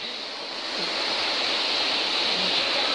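A steady, full rush of a rising forest river, constant and fairly loud, with no voices.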